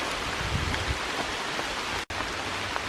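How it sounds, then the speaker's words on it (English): Steady rain falls through a forest, a dense even hiss of drops on leaves and ground, close and continuous, with a brief dropout near the end and no voices. "It's just enjoyable walking through the forest in the rain."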